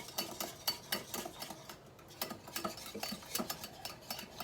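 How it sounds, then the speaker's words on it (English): A whisk beats egg sauce in a bowl set over a pot of water, giving fast, steady metallic ticks against the bowl, close and moderately loud, with no voices. "So just make sure that you're whisking it constantly for about 30 seconds."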